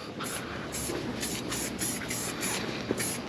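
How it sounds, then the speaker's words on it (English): Detailing spray misted over a satin black Harley engine, a steady close hiss with repeated short bursts pulsing roughly every half second. "So I'm just gonna kind of spray it everywhere but on my wheels."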